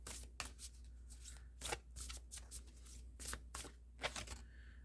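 Rose Oracle cards shuffled by hand: a quick series of soft riffling, flicking card sounds in short bursts, close and fairly quiet, with no talk.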